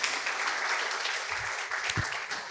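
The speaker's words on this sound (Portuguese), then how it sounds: "então, uma salva de palmas" Brief applause from the audience at a democracy conference opening session honouring Maurício Medeiros de Assis, a steady wash of clapping throughout with a couple of low thumps.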